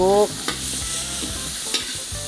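Sizzling and frying as grilled goat meat is stir-fried in a wok, with intermittent scraping strokes of a utensil against the wok, a few sharp clanks standing out over the steady hiss.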